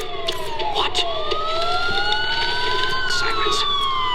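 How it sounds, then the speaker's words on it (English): Police sirens in the Batman: Arkham Asylum video game, several wailing tones sweeping up and down and overlapping, loud and steady throughout with a busy background. "Sirens. The police."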